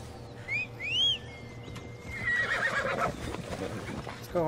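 Horse neighs twice in the game Assassin's Creed Odyssey, a rising then falling whinny, followed by a whistle-like tone and steady galloping hooves clattering over a low background hum.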